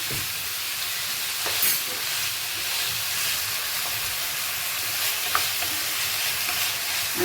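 Onions and potatoes sauté in a pan for a Tamil-style mutton curry, giving a steady, close sizzle with occasional spoon scrapes and clicks throughout, no voices.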